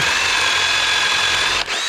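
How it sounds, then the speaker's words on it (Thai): A power drill bores a counterbore into a wooden post base as part of house framing, running in a steady, continuous whine at close range with one brief dip near the end, and no voices. "เจาะเข้าไปเป็นเคาน์เตอร์บอลแบบนี้ด้วยนะ"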